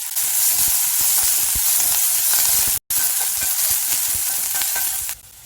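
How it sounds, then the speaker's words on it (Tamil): Chopped onions and curry leaves sizzle loudly in hot oil in a pan with steady frying crackle and occasional stirring, briefly cutting out midway and dropping off near the end. "இது கூடவே கருவேப்பிலையும் சேர்த்துட்டு நல்லா வதக்கிக்கலாம்."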